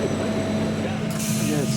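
Inside a second-class train carriage while boarding in Slovenia, a steady low mechanical hum and rumble with faint tonal squeals, plus a brighter hiss near the end, under someone talking.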